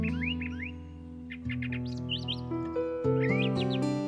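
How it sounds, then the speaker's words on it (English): A red-winged blackbird calls at a backyard feeder, a series of short, bright chirps and rising whistled notes coming in bursts over a steady background hum, moderately close. "here we have a red-winged blackbird who loves to come to my feeder every morning"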